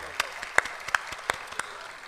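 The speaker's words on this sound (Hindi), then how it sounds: "ये तालियां आप लोगों के लिए" A short burst of scattered applause from a mushaira poetry recital audience, about five distinct claps standing out over faint background noise, thin and brief.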